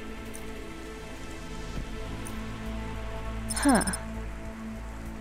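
Steady rain falls in the Cloudpunk video game city, a constant even patter throughout with a brief voiced murmur near the middle.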